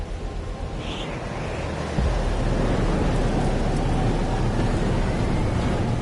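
Rain pours steadily through a video game thunderstorm, with low rolling thunder swelling louder from about two seconds in and holding a dense, continuous roar to the end; no one talks.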